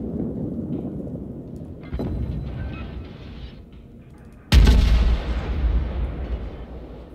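Warship gunfire hits the player's ship in World of Warships: a sharp boom at two seconds, then a much louder, close impact blast with a long rumbling decay, no talk.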